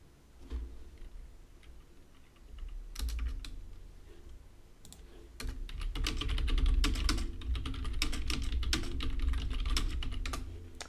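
Rapid, close clicking of keys on a PC keyboard, with bursts of typing that grow denser and louder toward the end and no speech.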